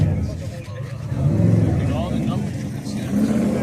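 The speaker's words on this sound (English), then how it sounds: "there goes a racing Corvette" A racing Corvette roars past at a car event, a throaty engine note swelling and lingering behind a voice talking over it.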